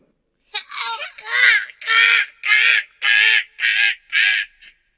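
A crow caws about seven times as a sound effect in a children's story, loud, close and evenly paced, with no speech over it.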